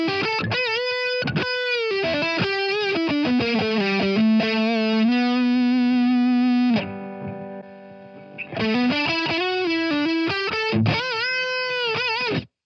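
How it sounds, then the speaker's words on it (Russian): Electric guitar played through a Fender Mustang LT25 combo amp with overdrive, loud and close: busy distorted riffs and bends, a held sustained note midway that drops quieter, then more choppy overdriven phrases, no talk. "просто овердрайв добавим"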